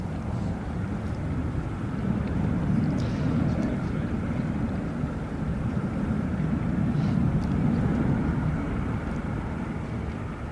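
A plane engine drones steadily and loudly throughout, a broad low rumble with some wind buffeting, while voices talk faintly underneath.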